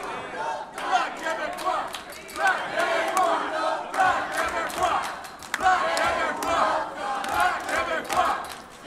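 Wrestling crowd reacting in the arena, a loud, swelling roar of many voices chanting and shouting in waves, with a commentator's voice audible in the mix.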